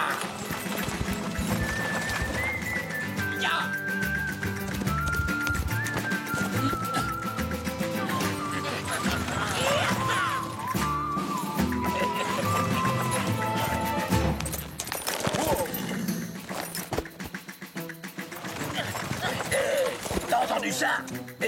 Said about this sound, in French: Évidemment que t'entends un cheval, imbécile.